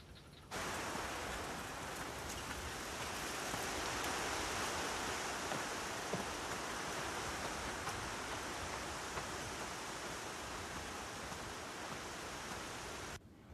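Steady, full-band rain falls continuously for about thirteen seconds, an even hiss that starts and stops abruptly, with no voices.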